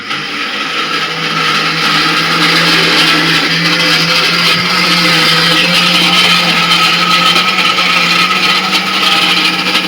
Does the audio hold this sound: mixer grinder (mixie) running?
yes